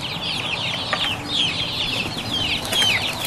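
Free-range village chickens cluck while feeding on recycled plantain trunk stumps, with busy overlapping calls and chirps across a steady outdoor bed, no talking.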